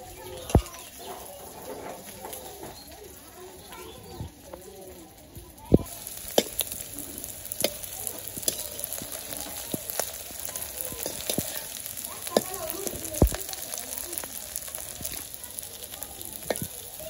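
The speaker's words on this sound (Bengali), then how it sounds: "আমার বড়াগুলো ভাজা হয়ে গেছে" Flower fritters (bora) frying in hot oil in a village kitchen: a steady sizzle punctuated by sharp, scattered pops and crackles throughout, fairly close.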